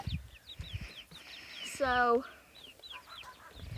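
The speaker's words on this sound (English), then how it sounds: "we can open that door and let the chickens roam" Chickens in an old-fashioned coop cluck in quick, repeated bursts, with one louder drawn-out call rising in the middle; a voice speaks briefly over the flock.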